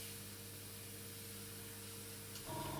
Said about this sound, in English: that's spraying nicely, but way too high a pressure